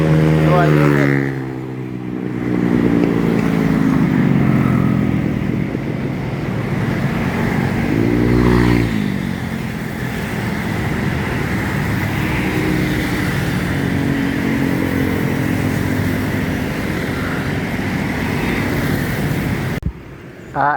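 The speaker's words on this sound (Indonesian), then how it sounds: "bus yang kedua masuk ke terminal" An ALS intercity bus on a Sumatra route rolls into a bus terminal, its engine droning and rising loudly and close under steady road rumble, with people talking throughout.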